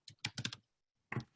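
Quick bursts of keystrokes on a computer keyboard, a rapid cluster of taps followed by a pause and a couple more, close and fairly quiet.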